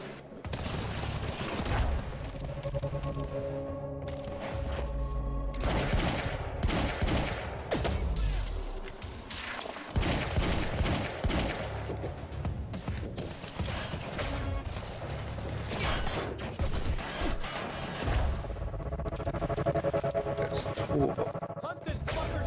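Loud, near-continuous gunfire fills the action game Quantum Break, with rapid volleys and heavy impacts layered over game music, and a voice talking over parts of it.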